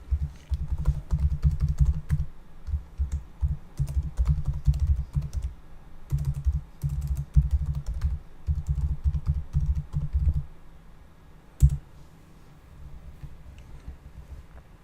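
Login credentials are typed on a computer keyboard in quick, close runs of clicking keystrokes broken by short pauses, with a final key tap and then quiet.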